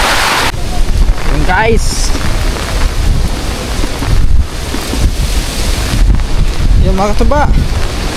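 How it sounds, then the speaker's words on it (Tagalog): Heavy rain and gusting wind during Typhoon Uwan make a loud, continuous rushing roar that dominates throughout, while someone speaks briefly over the storm. "Yung guys, lumalakas ng ulan."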